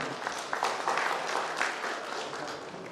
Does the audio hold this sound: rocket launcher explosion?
no